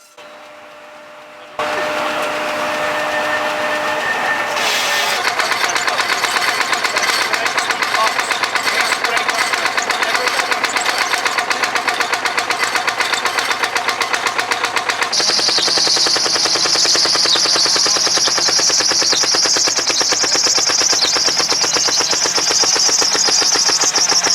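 A Ransomes steam engine, once used for manoeuvring goods at the Ransomes factory, runs at the Welland Steam Rally with a steady chuffing, knocking rhythm that carries on loudly and continuously throughout.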